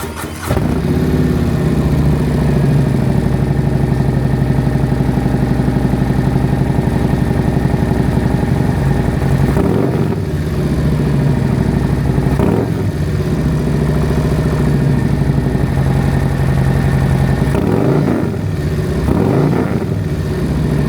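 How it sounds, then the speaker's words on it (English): A 2024 Harley-Davidson Road Glide with a Feuling Anti-Reversion aftermarket exhaust fires up and idles steadily, a deep throaty rumble with several brief revs blipping through. "you heard the exhaust, you heard the startup."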